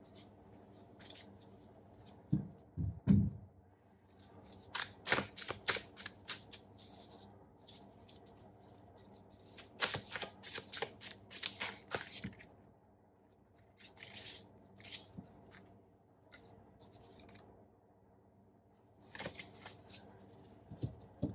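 Large tarot cards shuffled and handled in irregular bursts of riffling, rubbing and flicking, with quiet gaps between, close and soft, with no talking.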